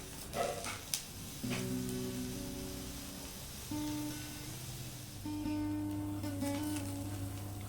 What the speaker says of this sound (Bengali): মাঝে মধ্যে এভাবে নেড়ে দিতে হবে না হলে পুড়ে যেতে পারে